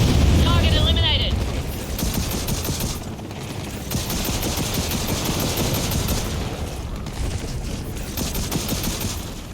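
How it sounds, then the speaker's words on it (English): Rocket launches and their booming impacts in Gears of War 4, a loud rolling barrage of blasts and rumble under a voice calling out in the game. "Rockets outgoing. Fire."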